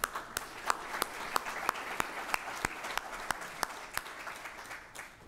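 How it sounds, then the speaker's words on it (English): A lecture audience gives a round of applause, a small, sparse crowd producing distinct individual claps at an uneven rhythm, soft and somewhat distant. "round of applause for them"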